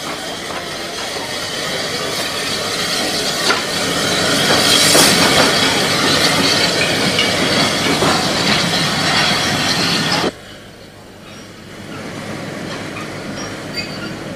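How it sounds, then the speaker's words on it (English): A tiny O62 compound tank locomotive rolls into a port station on a narrow-gauge line, a steady rumble of wheels and running gear that grows louder, then cuts to a quieter, more distant rolling sound. "O62 number 5 rolls into the port station."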